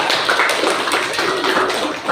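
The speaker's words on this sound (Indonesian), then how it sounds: "Tepuk tangan dulu untuk komentar." A group claps hands in steady, dense applause during an online teacher-training mentoring session, a continuous even patter lasting about two seconds with no voices over it.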